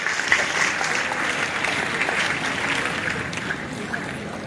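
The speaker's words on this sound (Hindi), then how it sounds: "एक बार जोरदार तालियां हैं।" A seated gathering at a gurukul event claps together, a steady wash of crowd applause lasting a few seconds at moderate level.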